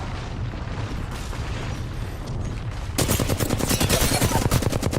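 In the video game Apex Legends, a low rumbling barrage gives way to a loud, rapid crackle of airstrike explosions and gunfire that fills the second half.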